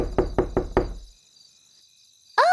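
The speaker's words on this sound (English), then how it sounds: "Knock, knock, knock." Four quick, evenly spaced knocks on a door during a toddler's trick-or-treat game, crisp and close, followed by silence and then a brief high chime.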